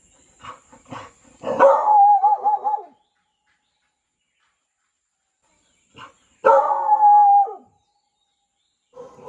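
Two or three dogs near a village house bark in two separate bursts of several sharp barks each, fairly close, with quiet pauses between and no talking.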